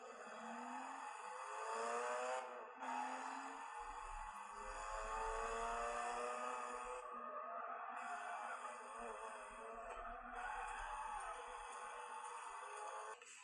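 A car engine in a mobile racing game revs and drones continuously, with the pitch sweeping up and down through gear changes and occasional brief dropouts and low rumbles from drifting or scraping.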